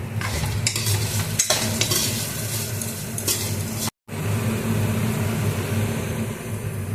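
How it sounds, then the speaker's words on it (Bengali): Spices being stir-fried with half-fried potatoes in a pan, a steady scraping, stirring sizzle that runs close and continuous with brief louder spatula strokes and a short gap partway through. "এবার সমস্ত মশলাটা কষিয়ে নেব"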